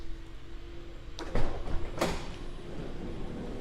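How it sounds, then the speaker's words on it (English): Power sliding door on a 2015 Honda Odyssey van moves: a few soft mechanical clunks and a short rolling rattle midway, over a quiet steady background hum. "Power sliding doors on both sides of the van."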